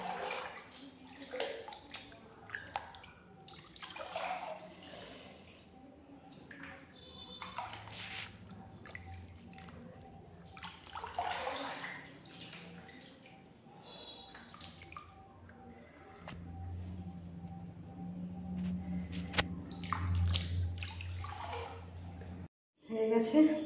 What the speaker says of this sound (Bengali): চলো এবার ধুয়ে নেওয়া যাক। জামা কাপড়ের মতো ধুতে হয় আমার চুল।